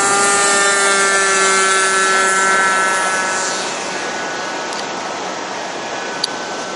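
A radio-controlled Águia 60 model airplane at Itanhaém runs its engine with a loud, steady high-pitched whine that fades slightly after a few seconds as it pulls away on takeoff.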